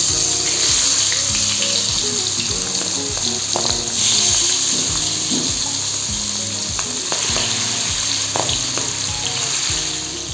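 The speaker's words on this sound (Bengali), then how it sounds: "এখন আমি এক এক করে মাছগুলো কড়াইয়ের মধ্যে দিয়ে দিচ্ছি ভাজার জন্য" Boal fish frying in hot oil in a pan, a loud steady sizzle throughout with occasional clinks and stirring, no talking.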